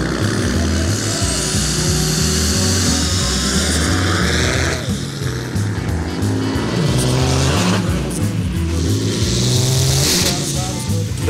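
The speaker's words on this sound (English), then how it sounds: "about to leave full boost right now and pull his Mustang out the water" A Ford Mustang roars at full boost as it tries to haul itself out of a pond. The engine is loud and close and climbs in pitch, with surging, sliding revs, then the drivetrain strains and the pitch sweeps again.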